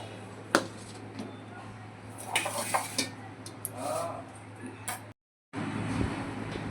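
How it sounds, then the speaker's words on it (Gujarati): A knife cuts through soft pav bread buns for dabeli on a kitchen surface, giving a few close, sharp knocks and light scrapes over a low steady hum. "હવે પાવ કટિંગ કરી લઈશું."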